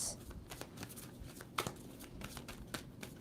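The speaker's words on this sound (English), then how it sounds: "2 more shuffles for Sagittarius." A deck of tarot cards is shuffled by hand, quick papery riffles and taps in irregular bursts, close and fairly quiet, with a brief louder snap midway.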